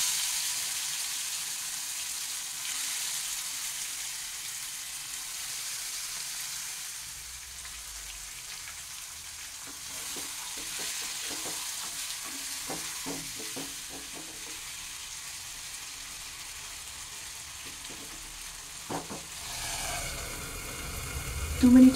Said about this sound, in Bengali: এখন এই যে ম্যারিনেট করা মাছ, এইটাকে আমি পুরো এই তেলের মধ্যে দিয়ে দিচ্ছি